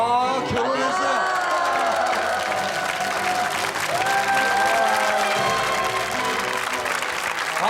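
A television studio audience applauds for a married couple, sustained loud clapping and cheering throughout, with music and voices running underneath.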